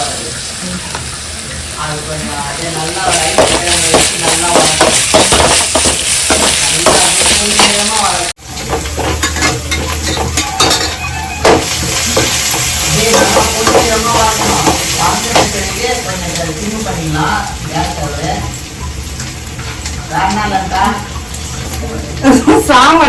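Sambar base with ginger garlic paste sautéing in a pan: loud continuous sizzle with stirring scrapes and clatter, a brief break midway, a voice talking intermittently over it.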